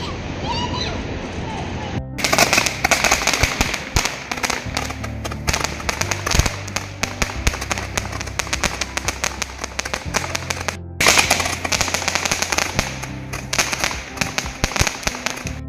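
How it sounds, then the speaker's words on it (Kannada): Firecrackers burst for Chinese New Year in China in rapid, dense strings of sharp bangs, loud and fairly close, with a short gap in between and faint voices underneath. "ಇವರಿಲ್ಲಿ ಇಷ್ಟೊಂದು ಪಟಾಕಿ ಹೊಡಿತಿರೋದು ಅವ್ರ ಚೈನೀಸ್ ನ್ಯೂ ಇಯರ್ಗೆ"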